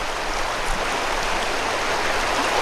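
A river flows in a steady, unbroken rush of water close by, a constant broadband wash with no voices over it.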